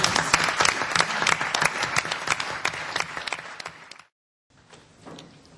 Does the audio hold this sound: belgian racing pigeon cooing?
no